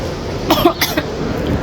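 A few quick, close coughs in a short burst, standing out against a steady background hiss.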